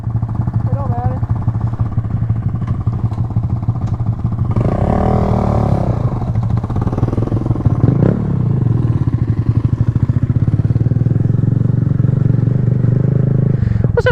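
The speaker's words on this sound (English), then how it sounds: "Me and Aaron got the four-wheeler running, so we're about to take it up the trail." A four-wheeler ATV engine runs steadily at close range, a low continuous rumble with a brief rev swell in the middle, while voices are heard over it.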